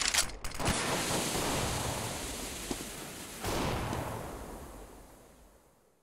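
A smoke grenade deployed in the CS:GO video game, heard as a long steady hiss of rushing noise that swells, drops briefly, then surges again before fading out, with no talking.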